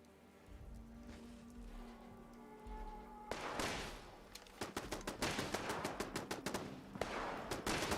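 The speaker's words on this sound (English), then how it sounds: "Ooh, I'm under fire." Rapid gunfire in Fallout 76 erupts after a quiet stretch, a dense rattling burst of shots close and loud, continuing in quick repeated volleys to the end without talk.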